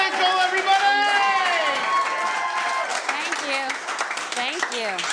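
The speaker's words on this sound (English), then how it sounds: "Give me a nice big round of applause for Bethenny Frankel, everybody!" An audience at a stand-up comedy show applauds and cheers as a comedian comes on. Rising and falling whoops and voices ride over a steady wash of clapping that continues throughout.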